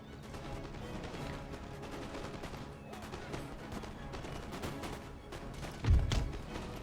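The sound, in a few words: musket gunfire volley from the video game Imperial Destroyer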